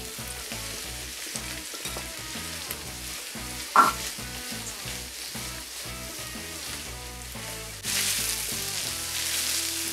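Two capsicums frying in a hot pan for shakshuka, a loud continuous sizzle with a brief clatter midway and a sharper, brighter hiss near the end.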